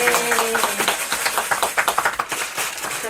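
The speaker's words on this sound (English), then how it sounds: "A round of applause for everyone." A small group applauds after a Doctor Who quiz, with a short burst of close, uneven hand clapping from a few people over about three seconds.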